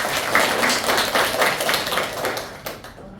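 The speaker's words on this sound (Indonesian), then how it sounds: "kita beri tepuk tangan dulu" Brief burst of classroom applause, a scattered cluster of hand claps that swells and then fades out within a few seconds.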